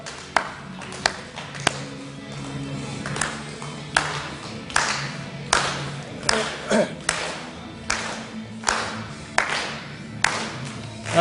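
A church congregation claps along in a steady beat to a sung worship song, with singing and music under the repeated claps through the whole stretch.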